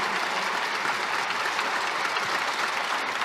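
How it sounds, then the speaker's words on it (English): An audience at a courtside conversation event breaks into loud, sustained applause, a thick continuous clapping wash with crowd noise underneath and no talk on top. "I think we need another round of applause for these guys."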